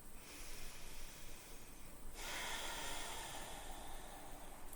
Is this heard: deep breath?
yes